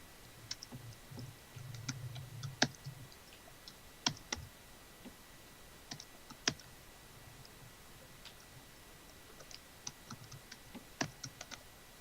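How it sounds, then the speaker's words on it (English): Keys tapped on a computer keyboard in short, scattered bursts of sharp clicks, close and fairly quiet, separated by pauses against a soft steady background hum. "I'm typing in the general chat right now."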